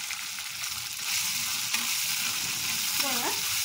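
Cooked rice with a little salt frying and being stirred in a pan, a continuous close crackling sizzle with soft scraping movements, no talking.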